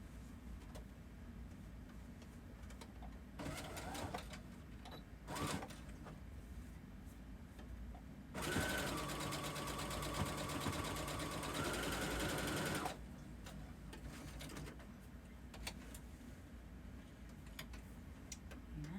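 A home sewing machine stitches a custom dress in short bursts, then one long steady run of rapid mechanical whirring and needle clatter lasting several seconds before stopping. Nearby and fairly loud, with no talking.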